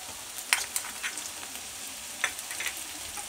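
Cauliflower and vegetables with green chili stir-frying over a high gas flame, a continuous close sizzle broken by a few quick spatula scrapes, no voices.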